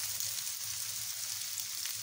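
Two chopped medium onions fry in hot oil, giving a steady close sizzle with a faint low rumble beneath and no speech.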